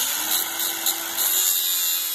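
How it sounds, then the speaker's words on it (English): An angle grinder cuts through the end of a steel cable for an indoor batting cage net, a steady loud high whine held for about two seconds before it stops. "then we take a grinder and we cut off the rest of the cable"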